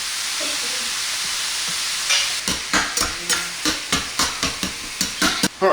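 Meat tomato sauce stirred back and forth in a pan under a steady sizzle, a quick regular run of spoon scrapes starting partway through, close and loud.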